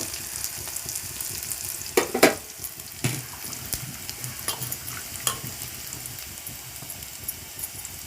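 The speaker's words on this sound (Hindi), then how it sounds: "पियाज अदा रसुण को फ्राए करवा।" Onion, ginger and garlic fry steadily in a pan, a continuous sizzle with a few sharper scraping or clattering knocks over the top; no voices.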